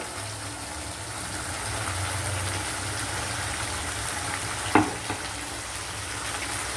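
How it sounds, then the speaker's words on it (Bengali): Spice paste bubbles and sizzles steadily in a hot pan, a continuous close frying hiss with one brief scrape or clink from a stirring spoon partway through. "দেখো মশলাটা একদম টকবক করে ফুটে উঠেছে"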